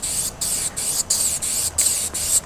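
A spray paint can hisses out graffiti onto a train car in short bursts, about seven loud, close sprays separated by brief pauses.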